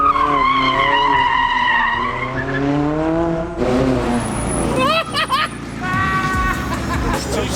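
Tyres of a 2022 8Y Audi RS3 saloon squeal and skid through a sideways drift on the Stelvio Pass, a loud continuous screech with engine roar, under babble of voices.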